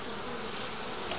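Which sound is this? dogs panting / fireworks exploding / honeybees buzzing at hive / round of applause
honeybees buzzing at hive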